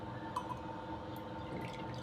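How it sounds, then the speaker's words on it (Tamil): Filter coffee decoction trickles and pours into a glass, a faint steady liquid fill with light dripping, close by and without talk. "இதுங்க கிளாஸில் ஊற்றி பார்க்கலாம்."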